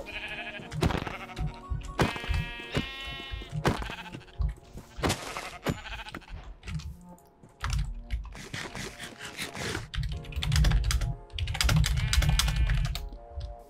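Sheep in the video game Minecraft give several short, nasal bleats amid a busy mix of clicking keys and game sounds, with no voice over them.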